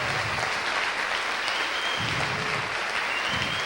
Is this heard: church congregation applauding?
yes